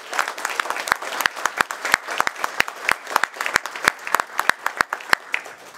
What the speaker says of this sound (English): Give us a round of applause then.